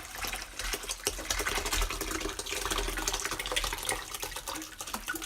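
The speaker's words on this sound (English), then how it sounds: "now I will drain my chana" Cooking water from boiled chickpeas pours out of a pot into a bowl as a steady, close splashing stream that runs without pause.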